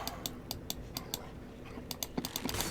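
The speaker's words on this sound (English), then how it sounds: "I apologize if you hear clicking on my mouse" A computer mouse sits right next to the microphone during a Torchlight game session, its crisp clicks ticking quietly and irregularly, some in quick pairs, over a soft steady background hiss.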